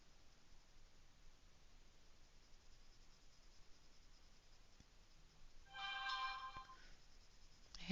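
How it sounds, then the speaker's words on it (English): A phone notification chime rings out once, brief and moderately loud, over steady background hiss in a quiet room during a Saturday colouring livestream. "obviously the notifications are going to come in through loud and clear"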